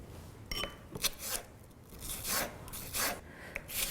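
A knife slices cucumber very thin on a cutting board, producing a series of soft rasping strokes at an irregular rhythm, close and fairly quiet.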